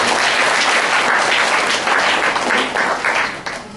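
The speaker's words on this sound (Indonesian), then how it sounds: "boleh tepuk tangan buat mereka" A church congregation applauds, dense loud clapping filling the space steadily for several seconds before tapering slightly at the end.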